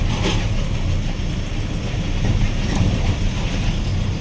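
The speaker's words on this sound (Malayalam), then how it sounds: "തൊട്ട് സൈഡിലൂടെ പോകുന്ന റെയിൽവേ ട്രാക്ക് കേട്ടോ ഇതേ വരുന്ന അടുത്ത വണ്ടി കണ്ടോ" A train rumbles past on a railway track beside the Farakka bridge at night, a continuous loud low roar with wind noise and no clear breaks.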